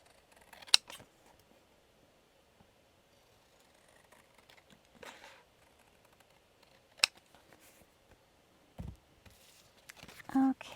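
Scissors snip paper for a mermaid-themed craft journal, a few sharp isolated cuts spread across a quiet tabletop scene, with faint handling noise and a louder rustle near the end.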